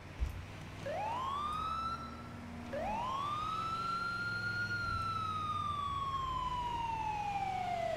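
An ambulance siren in GTA 5 while driving on a highway, two long rising-then-slowly-falling wails, loud and clear over a low engine rumble, with no talking.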